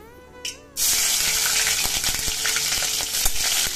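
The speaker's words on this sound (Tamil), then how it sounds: "போட்ட உடனே எண்ணெய் காஞ்சிடவே பொரிஞ்சுடுத்து பாருங்க" Grated ginger and chillies drop into hot oil in a home kitchen pan and erupt into a loud, steady sizzle that holds near and bright for several seconds, with faint stirring clicks in it.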